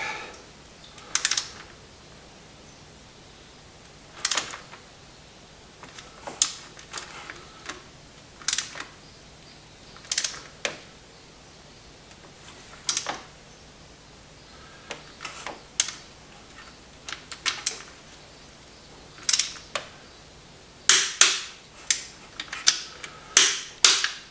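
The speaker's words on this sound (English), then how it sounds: "Tang Tools 5 to 25 Newton meter 1/4 inch torque wrench" A Tang Tools 5–25 Nm quarter-inch torque wrench tightening a Ford Focus thermostat housing, giving sparse sharp ratchet clicks and ticks at irregular intervals, clustering faster near the end, close and with no speech.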